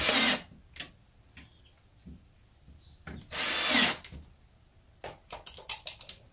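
A power drill drives a screw into a screen door in short bursts, with two longer high-pitched whirs and a rapid run of brief pulses at the end, close and clear with no talk.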